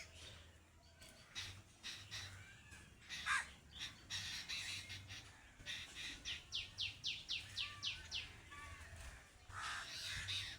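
Crows and other birds call in the morning, with a run of quick rhythmic caws in a regular series alongside scattered chirps, fairly faint over a low hum, with no talking.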